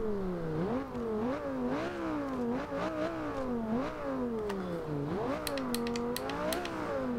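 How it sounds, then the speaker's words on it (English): A 2011 Lamborghini Gallardo LP570-4 Superleggera V10 engine in Forza Horizon 2 revs hard and shifts through gears, its pitch repeatedly climbing and dropping, steady and close with no voices. "I like the sound of that V10 engine."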